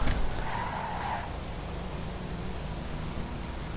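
A Karin Sultan Classic in GTA Online locks its handbrake and skids, giving a loud, close tire screech at first that fades into a steady rolling road noise.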